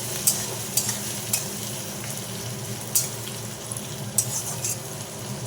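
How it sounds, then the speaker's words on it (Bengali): Cherry tomatoes frying in a curry for a dopiaza: a steady low sizzle runs throughout, broken by several sharp spoon clicks and scrapes against the pan. "ছোটো ছোটো টমেটো, চেরি টমেটো নিয়েছিলাম, সেগুলোই দিয়ে দিচ্ছি তরকারির মধ্যে।"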